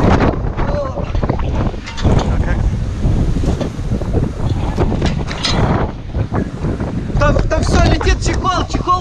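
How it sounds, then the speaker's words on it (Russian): Hurricane-strength gusty wind roars and buffets the microphone continuously at a villa, with a person talking under the howling gusts. "У нас ураган, ребята, тупо ураган."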